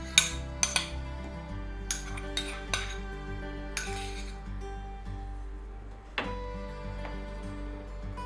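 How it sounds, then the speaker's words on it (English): Metal spoon stirring vegan beet brownie mixture in a bowl, a few sharp clinks against the side near the start, then steady scraping and tapping, close and clear with no voices. "Just give it a stir."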